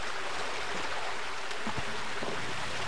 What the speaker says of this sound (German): Steigendes Wasser.